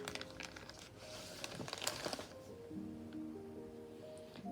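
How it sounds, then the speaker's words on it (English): Soft crinkling of a plastic bag holding a small philodendron houseplant, a few scattered rustles and crackles in the first half, then quieter handling sounds, fairly close. "It's living in a plastic bag, as you can see."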